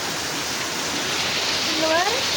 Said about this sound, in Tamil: எப்படிங்க பயங்கரமாக மழை பெய்யுதா பாரு.